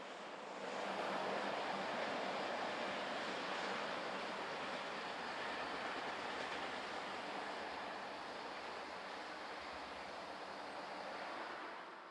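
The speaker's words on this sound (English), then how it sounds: "A pair of 444s head a train from La Spezia to Milano." A passenger train from La Spezia to Milano led by a pair of class 444 electric locomotives rushes past, a broad continuous roar that holds steady for several seconds and then eases slightly, with no voices.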